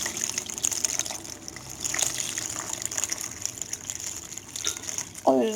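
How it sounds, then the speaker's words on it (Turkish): Water being poured in quantity into a pot while preparing a natural cold and cough remedy, a steady gushing trickle under faint background noise, with a louder splash near the end. "Şöyle ben bayağı bir su koyacağım."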